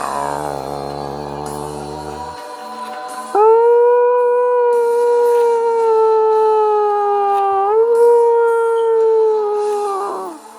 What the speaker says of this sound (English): Now, what that represents is the siren.